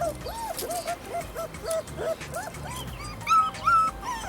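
An injured abandoned puppy with an old leg fracture whimpers close by, giving a run of short, rising, high-pitched whines one after another, with a couple of louder yelps near the end.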